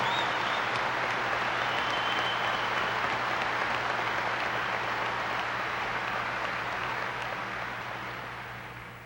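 Sustained audience applause in a large hall at a religious broadcast event, steady dense clapping that holds loud for about nine seconds before beginning to taper at the end, with no voices over it.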